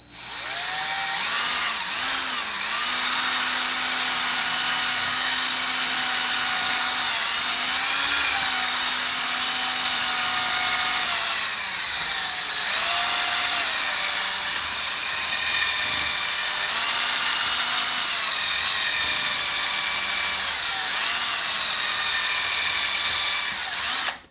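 A power drill with a large bit whines steadily and loudly for the whole stretch, its pitch dipping and rising as it bites and eases, with no talking.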